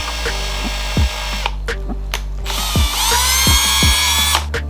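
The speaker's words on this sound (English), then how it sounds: "there is a hole right here that we're supposed to drill out to 7/64" A power drill whirs in several short bursts drilling a hole out to 7/64 inch in a Nissan 350Z fuel pump part, revving up and winding down between pulses, loud and close, with no speech.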